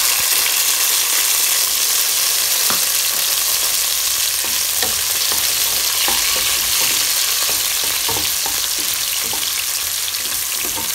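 Onion and tomato sauté together in a pan, a loud, steady hiss of frying with repeated light clicks and taps from a spatula stirring, near and continuous, with no speech.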